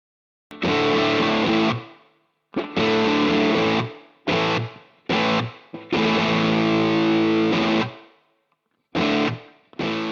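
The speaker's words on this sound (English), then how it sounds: "Let's try a bit of plate." Electric guitar through a tube amp with plate reverb, playing several distorted chords and phrases separated by short pauses, each loud burst ringing out with a reverb tail.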